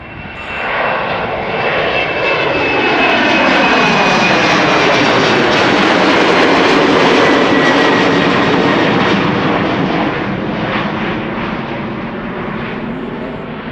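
KLM Embraer 190 jet, 12 years old, departing Amsterdam Schiphol for Frankfurt, a loud close engine roar that builds quickly, holds with a sliding whine of passing engines, then eases slightly.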